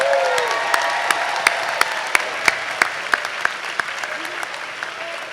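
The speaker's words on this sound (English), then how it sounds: "Another round of applause for our graduates." An audience at a college honors convocation applauds graduates with steady, bright clapping, a few louder individual claps standing out near the microphone, while a faint voice speaks underneath.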